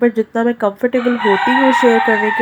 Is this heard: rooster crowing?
yes